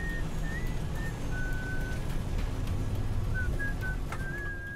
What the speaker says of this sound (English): when we heard the co-pilot start whistling